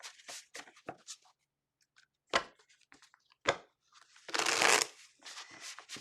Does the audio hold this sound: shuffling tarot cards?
yes